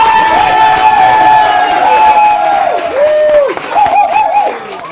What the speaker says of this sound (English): So, please, stamp your feet! Clap your hands!